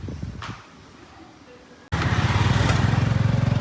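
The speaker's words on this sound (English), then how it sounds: "this is the tuk-tuk into the old town" A tuk-tuk riding into the old town of Siem Reap, Cambodia: after a quieter stretch with some background noise, a small engine rattles loudly to life with a fast, pulsing buzz close by.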